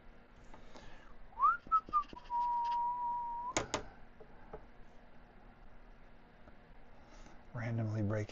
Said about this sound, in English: Randomly break into whistling.